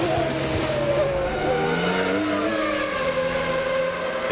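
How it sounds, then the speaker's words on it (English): A 1996 Formula One race car engine at the British Grand Prix, captured onboard just above the engine air intake: a loud, constant high-pitched scream whose pitch sweeps up and down through gear changes. "Damon Hill chasing Mika Hakkinen still."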